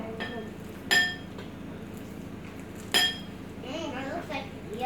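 A metal spoon clinks twice against a bowl while mixing a home-cooked macaroni dish, two bright distinct strikes a couple of seconds apart, with a child and an adult talking nearby.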